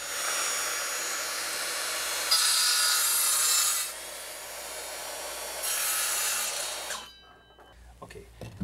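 Wooden trim being sawn by hand for cork wall panels, a steady close rasping stroke that runs for about seven seconds with two louder bursts, then stops into near quiet.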